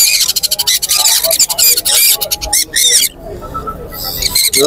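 Rapid, shrill squawks and chattering calls from pet cockatiels and lovebirds, close and loud, coming in dense bursts with a brief pause before resuming.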